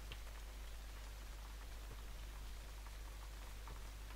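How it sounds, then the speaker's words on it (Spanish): Steady rain in the cozy video game Simpler Times falls as a soft, even patter with scattered drops, faint and continuous throughout, with no voices. "Me gusta el sonido de la lluvia."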